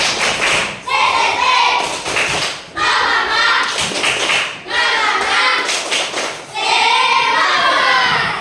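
A school class performs a rhythmic spirit clap, with four loud bursts of group clapping and thumping separated by short pauses, mixed with children's voices.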